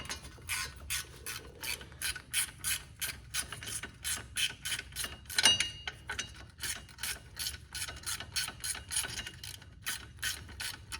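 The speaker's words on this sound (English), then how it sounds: "I'm gonna have to use a socket for this one." A ratchet with a socket works on the front hub of a 2010 Town and Country, giving a long run of steady, evenly spaced clicking strokes close up with no talk.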